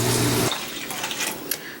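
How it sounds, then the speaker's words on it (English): Water pours into a pot on a stovetop for about half a second in a loud rushing burst, then gives way to faint clinks and quiet room noise. "So I've added my 6 cups of water"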